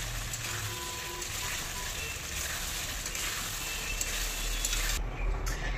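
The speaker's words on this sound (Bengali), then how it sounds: "এখন তরকারি ফুটছে" Potato curry seasoned with red chilli powder bubbles and sizzles in a pan on the stove, a steady close crackling and simmering texture with occasional stirring, no voices.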